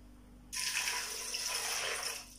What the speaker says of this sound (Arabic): ندير فيها اللوبيا، غادي نزيد عليها الماء